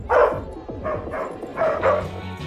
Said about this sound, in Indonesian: David kembali bernapas lega usai mengetahui sumber gonggongan anjing